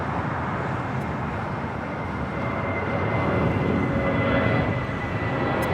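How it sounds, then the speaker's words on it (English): An Air Canada Boeing 777-300ER arriving at LAX from Amsterdam produces a continuous, broad jet roar that swells slightly toward the end, heard from a distance without talk. "777-300ER, the second flight of the day coming in from Amsterdam, flight 603"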